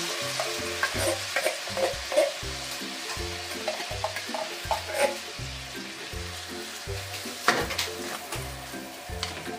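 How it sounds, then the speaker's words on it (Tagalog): Mushrooms fry in a pan for garlic pepper beef, a steady close sizzle broken by regular stirring scrapes in an even rhythm, with no voices. "Lutuin po natin ng 1 minuto lang yung mushroom."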